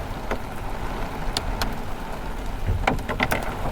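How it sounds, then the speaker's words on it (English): Heavy rain and hail pound a truck during a severe thunderstorm, a steady dense patter with scattered sharper impacts from larger hailstones striking the surface up close. "Getting a lot of rain. A lot of rain. There's some bigger hail."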